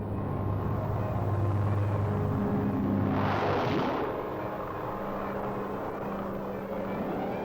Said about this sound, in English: In a matter of minutes, the planes take off for the combat zone